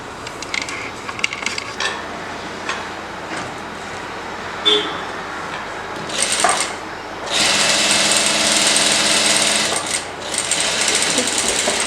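A sewing machine runs in bursts while stitching the front dart of a collar blouse, its motor whirring steadily and loudest in the second half, with brief stops and handling noises between runs, no speech.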